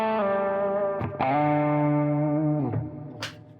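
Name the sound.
electric guitar lead through overdrive pedal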